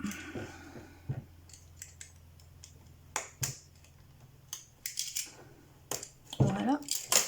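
Small scissors make several crisp, close snips at irregular intervals, with quiet talk in between.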